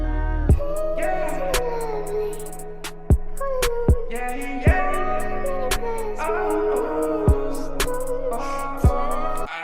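A melodic vocal line with sustained notes drenched in an ambient reverb and echo effect chain, layered over a sparse beat with sharp percussive hits.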